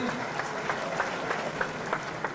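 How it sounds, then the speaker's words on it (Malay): An audience applauds Malaysian Prime Minister Datuk Seri Anwar Ibrahim at a youth gathering in Selangor, steady dense clapping from a crowd, moderately loud and continuous throughout, with faint voices mixed in. "Tepukan sekali lagi untuk Yang Amat Berhormat Perdana Menteri Datuk Seri Anwar Ibrahim."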